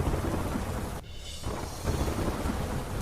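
Heavy downpour in Tapi district, near the flooding Valmiki river, pours down as a dense, continuous hiss with a brief lull in the middle and possible low thunder rumble beneath, with no voices.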